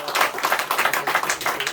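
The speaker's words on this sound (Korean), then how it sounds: "우리 격려 감사의 박수 한번 해주십니다." A church congregation applauds during a Sunday morning worship service, a dense, steady wash of many hands clapping at close range for nearly two seconds with no voices over it.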